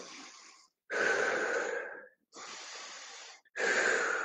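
Fast, intense breathing exercise through the mouth: four forceful breaths, each a rough, airy rush lasting about a second, separated by short silent gaps, close and alone.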